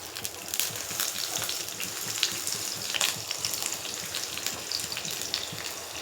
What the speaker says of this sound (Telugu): ఫస్ట్ నేను ఆనియన్ వేసేస్తున్నాను.